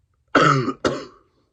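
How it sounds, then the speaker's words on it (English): Two harsh, throaty coughs in quick succession, close and fairly loud, followed by silence. "Oh, sorry, coughing."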